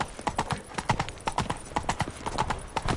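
Roach the horse galloping in The Witcher 3, hooves striking in a fast, steady clip-clop rhythm that stays close and clear for the whole stretch.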